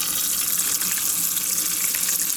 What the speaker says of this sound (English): That is some nasty water coming out of there.